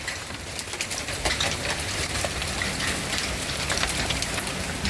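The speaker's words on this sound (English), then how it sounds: "It is hailing." Hail pelting a brand-new roof during a storm, a dense, steady patter of hard impacts with no talk.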